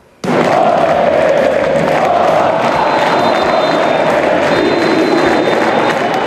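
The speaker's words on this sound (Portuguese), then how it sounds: "O canto da torcida na estreia da temporada parecia para um jogador" A large football stadium crowd roars and chants together at a Cruzeiro season opener, a dense continuous wall of voices that swells suddenly and stays loud throughout.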